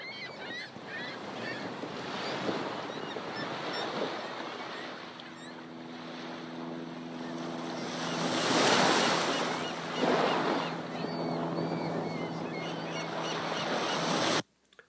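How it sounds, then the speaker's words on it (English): Recorded beach ambience of surf washing in and out with steady wind, a continuous wash of noise with a swelling wave near the middle, played through audio sunglasses and cutting off abruptly at the end. "there's a serene beach scene, which is basically audio from a beach"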